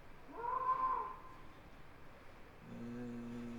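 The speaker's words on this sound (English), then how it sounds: "The goat." A goat-bleat car lock chime: a short, bleating cry rises and falls near the start, followed by a quieter sustained tonal sound toward the end.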